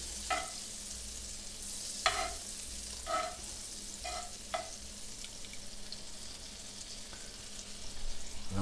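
Pads of butter and extra virgin olive oil heating in a hot pan give a faint, steady sizzle, broken by a few sharp clinks and taps of a utensil early on.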